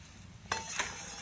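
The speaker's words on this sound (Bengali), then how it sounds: "চিনিতে গুড়টা দিয়ে ভালোভাবে নাড়বো।" Sugar and jaggery stirred together in a pan for hog plum pickle, with two quick scraping strokes against a faint sizzling background, close and soft.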